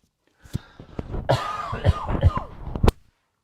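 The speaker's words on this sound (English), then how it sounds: "Coughing terrible as well." A person coughs several times in quick, harsh bursts, close to the microphone, with rough breathy sounds between the coughs.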